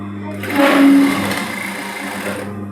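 A sewing machine runs a continuous stitching burst along a seam on a women's shirt being fitted, steady and close, with a brief louder rise near the start and fading out at the end.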